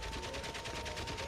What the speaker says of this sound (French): pourquoi le mec s'excite sur sa mitraillette?